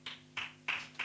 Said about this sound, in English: I think it deserves a round of applause at that point.